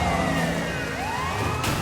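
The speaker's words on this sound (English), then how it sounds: "these criminals don't scatter when they hear, you know, cop sirens" Police car sirens wail in the Sleeping Dogs video game, a rising and falling electronic tone over a loud engine rumble, continuous and fairly close, with no talking.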